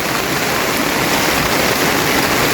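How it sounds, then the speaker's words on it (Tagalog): Floodwater rising fast over a street, a loud, dense, continuous wash of rushing and splashing water like heavy rain or a torrent, steady throughout with no voices. "Ang bilis so tumaas ng tubig."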